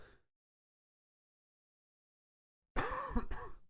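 Near silence, then a sudden close cough bursts out in two quick rough expulsions.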